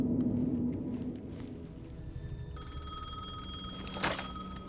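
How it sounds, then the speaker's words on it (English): A payphone rings in the Alan Wake 2 video game, a bright electronic trilling ring starting partway through over a low ambient rumble, followed by a sharp click near the end. "The payphone was ringing"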